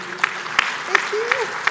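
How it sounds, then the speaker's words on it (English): An audience at the East African Congress of Accountants gives a slow, sparse round of claps, about five distinct hand claps evenly spaced, with a voice speaking underneath. "have your claps please."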